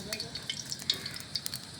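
Potatoes fry in hot oil at a rainy-day outdoor picnic, a soft continuous sizzle dotted with small sharp crackles and pops, quiet and close with no talk.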